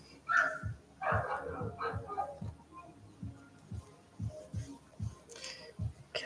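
A pet dog gives a run of short, fairly close barks and yips at a steady rhythm, with a few whimpering notes, while a person talks over it indoors.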